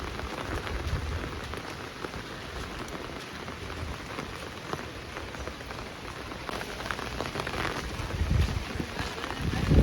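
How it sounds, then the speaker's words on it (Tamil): Heavy rain pours steadily onto a surface, a dense continuous patter that swells slightly louder toward the end. "மழை வந்து இடவிடாமல் பெஞ்சு கொண்டே இருக்குது"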